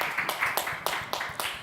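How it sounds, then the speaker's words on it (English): An audience claps for a new panelist at a panel discussion on education technology in West Africa, a brisk, steady run of hand claps that holds a fairly even rhythm. "A round of applause for him, please."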